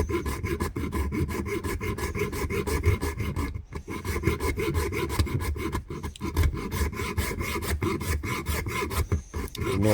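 An antler bead is sanded at its edges, giving a steady, close, gritty rasp with rapid back-and-forth strokes. It runs continuously with only a few brief pauses.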